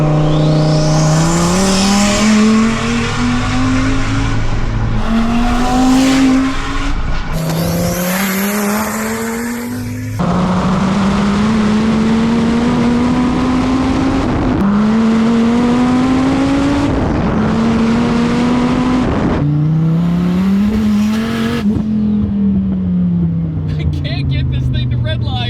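A 1400 HP twin-turbo Dodge Viper accelerates hard through several gears, each pull a loud rising engine howl broken by sharp shift cuts, with a person talking over the roar.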